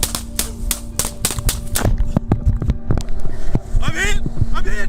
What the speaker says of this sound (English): a tense exchange of gunfire ensued